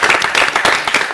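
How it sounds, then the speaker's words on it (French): Brief, loud burst of close group clapping for the head of a centre, rapid uneven claps filling the moment. "Applaudissements pour le chef."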